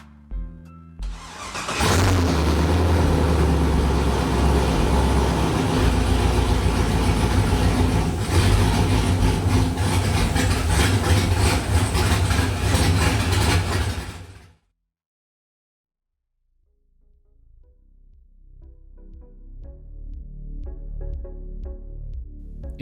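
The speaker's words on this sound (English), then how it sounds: "With the valve turned off, start and idle your engine." A racing car engine fitted with an Accusump oil accumulator starts and runs at a steady, loud idle for about twelve seconds, then cuts off abruptly into silence before a faint low rumble returns.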